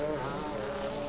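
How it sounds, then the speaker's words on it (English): Porsche GT race car on the Trois-Rivières street circuit, a sustained buzzing exhaust drone with steady harmonic tone heard from a distance, no talk over it. "Distinctive exhaust note of the Porsche."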